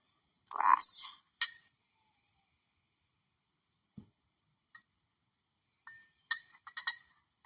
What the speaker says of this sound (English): I'm just rolling the magnet around the glass.